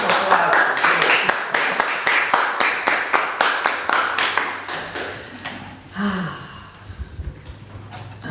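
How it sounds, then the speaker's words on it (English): At a selectboard meeting, a round of applause rises as a brisk burst of hand claps from a small group, then fades out after about five seconds into murmurs and a few voices. "Round of applause."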